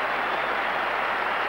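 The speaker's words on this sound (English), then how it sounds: "What a cheer he's got." A Lord's cricket crowd roars for Neil Fairbrother's century in a one-day international against the West Indies, a brief burst of loud cheering and applause that fills the whole moment.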